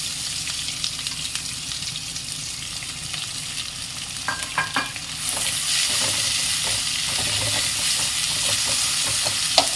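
Two onions, sliced lengthwise, fry in hot oil in a pan while being stirred, a steady sizzle with scraping stir strokes that grows louder and denser partway through.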